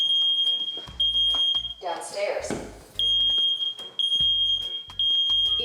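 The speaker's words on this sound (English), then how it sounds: "Smoke alarm silenced." A smoke alarm going off from cooking smoke while making jerk chicken indoors, its loud shrill beeping pulsing in repeated bursts, with people talking and exclaiming loudly over it.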